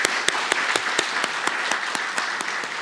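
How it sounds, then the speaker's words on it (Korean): A church congregation claps warmly to welcome a missionary, sharp irregular hand claps from a crowd that are dense and steady throughout, heard alone without talk. "잠깐만 오셨으면 일어나 주시면 우리 뜨겁게 박수로 환영하시죠"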